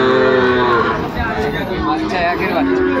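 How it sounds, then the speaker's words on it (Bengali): A Sahiwal bull calf moos loudly and close by at a busy cattle market. The long, drawn-out calls rise over steady crowd chatter and nearby voices. "একেবারে হাই কোয়ালিটির একটি ষাঁড় বাচ্চা"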